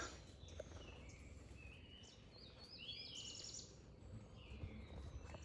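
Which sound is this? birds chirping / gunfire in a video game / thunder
birds chirping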